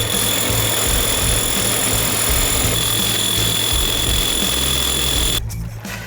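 A Bosch rotary hammer fitted with a core bit bores into a concrete block, a loud steady hammering drone with high whine running unbroken for over five seconds before cutting off near the end.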